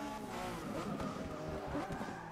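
A race car engine roars in the Forza Motorsport 6 video game at Yas Marina Circuit, a continuous mid-level engine drone with shifting tones and faint tire noise, heard alone and fairly quiet.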